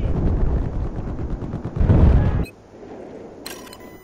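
Dense machine gun fire in the video game Battlefield 4 on a Conquest map, a loud rapid burst of shots that cuts off abruptly, followed by quieter game sounds and a short electronic chirp.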